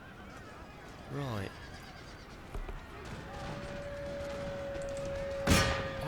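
Cavalry horses whinnying in a Darthmod Napoleonic battle game, a clear descending neigh followed by muffled battle noise, a sustained tone and a sharp burst, with someone speaking briefly.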